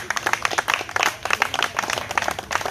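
Short burst of audience applause at a presentation, dense rapid clapping from a small crowd, close and lively for a few seconds.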